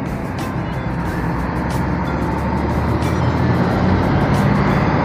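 Harapan Jaya bus at the Tamanan terminal in Kediri, a continuous engine rumble with broadband roadway noise and a few faint clicks, steady and fairly close, with no talk.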